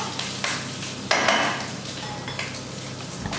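Bacon frying in a pan turns crisp, giving a steady close sizzle with scattered pops and a few sharp crackles. No voices.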